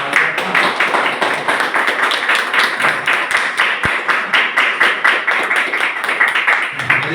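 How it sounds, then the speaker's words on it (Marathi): A group claps in a fast, even rhythm, the steady beat running throughout with a faint murmur of voices underneath. "टाळ्या वाजतायत"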